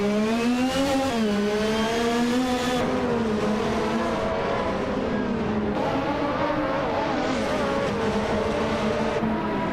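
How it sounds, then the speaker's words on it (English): A Ryle RC1 race car in a racing video game drones with a loud, steady engine note that rises and dips slightly as it holds speed, with no talk. "Rumi Fizz 13 is piloting a Ryle RC1, a car known for its lightweight chassis and nimble handling"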